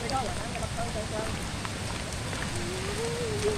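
Heavy rain pours down in a forest, a dense, steady patter on surfaces all around, with people talking over it.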